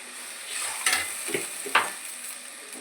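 Spices tipped one by one into a hot pan for veg biryani, sizzling and stirred with a few sharp scrapes against the pan, close and moderately loud, no talk.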